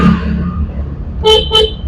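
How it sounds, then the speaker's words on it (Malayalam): Two short car horn honks, close and loud, sound over a steady car engine and road noise while driving on a busy road. "ഓണടിച്ച് ഒന്നുകൂടെ കൊടുക്കും"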